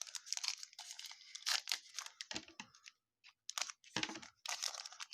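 Crisp snipping and crinkling of scissors cutting through a foil trading-card pack in short bursts, close up, with brief pauses between cuts.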